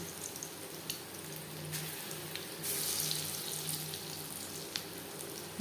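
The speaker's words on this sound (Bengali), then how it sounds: "ডালের বড়া ভাজবার জন্য চার পাঁচ চামচ রিফাইন্ড অয়েল গরম করে নিয়েছি দিয়ে দেবো বড়া" Masoor dal fritters (bora) frying in a shallow pool of hot refined oil give off a steady, close sizzle and crackle with small pops throughout, and no one speaks.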